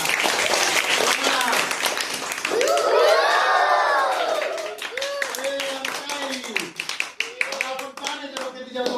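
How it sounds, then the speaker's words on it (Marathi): Clapping at a children's science-magic show, a burst of group claps and light cheering that swells then thins into scattered claps, with voices talking over parts of it. "आवडला खेळ, टाळ्या वाजवा."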